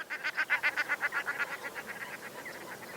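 A flock of common shelducks calls in flight over a lake in the Manych region, a rapid, rhythmic series of nasal honks that fade slightly as they pass, moderately distant, with no talking.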